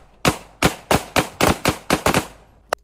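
A rapid string of about nine sharp gunshots rings out in quick, slightly uneven succession, each crack close and loud with a brief decaying tail, ending in a smaller final pop.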